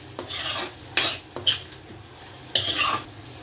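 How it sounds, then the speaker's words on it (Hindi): A spoon scrapes and stirs spice masala in a pan on a low gas flame while tinda curry is being cooked, giving a few uneven scraping strokes over a faint sizzle, close up with no talking. "अब इसको मिक्स कर लेंगे। गैस की फ्लेम लो ही है, लो फ्लेम पे ही पकने देंगे इसको।"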